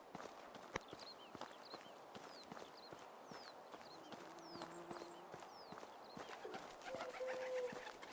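Pigeons in the Medieval Dynasty video game coo and chirp faintly in a repeating pattern under a bed of ambient noise, with soft footstep-like clops and occasional clicks.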